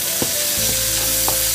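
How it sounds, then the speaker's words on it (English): Green onion sizzling in a hot wok, a steady close frying hiss with a couple of light stirring clicks. "We're gonna put the green onion in, and that's roughly a quarter cup or so."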